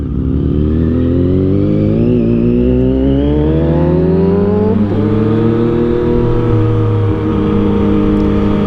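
A 2022 Yamaha MT-09 motorcycle with a tuned ECU revs loudly and close by under hard acceleration. Its engine note climbs in pitch, drops at a quick gear change, then pulls up again. No one speaks.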